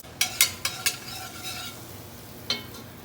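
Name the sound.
butter melting and stirred in a pan for a roux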